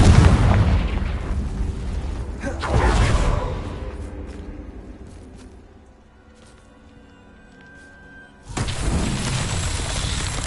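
Hogwarts Legacy's Confringo blasting spell detonates in a loud booming burst with a whooshing tail, a second blast follows, the rumble fades to near quiet, then another heavy explosion erupts near the end.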